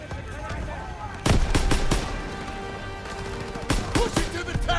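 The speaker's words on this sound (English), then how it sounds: "Grenade!" A grenade explosion in the World War II shooter game Call of Duty WWII bursts loudly amid scattered gunfire, with a second blast-like burst shortly after, as soldiers shout over the combat.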